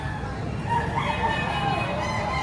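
A bulik rooster crows at a busy chicken market, one drawn-out call rising and falling over about a second amid a low crowd murmur, with voices talking nearby.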